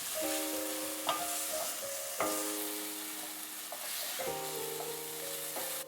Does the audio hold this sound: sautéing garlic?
yes